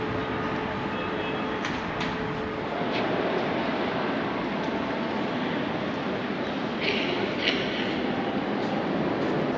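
Train noise at a very long platform in a Budapest main station, a steady broad rumble of rail traffic and station ambience with faint higher clicks and squeals, continuous and fairly loud, no talk.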